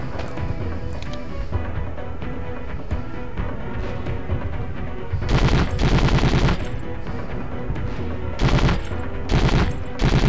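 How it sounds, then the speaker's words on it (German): Gunfire from the PS2 video game Conflict Desert Storm 2 rattles in repeated automatic bursts over a dense, continuous battle din, with louder volleys coming in near the middle and end. "Irgendwer oder was schießt auf uns?"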